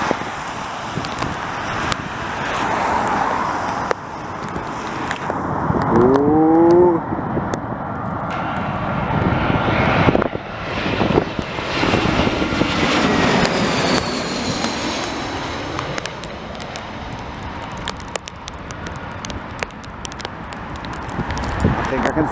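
An airliner comes in to land during Storm Eunice, its jet engine roar swelling loudly and sweeping past over strong gusting wind, with people talking throughout.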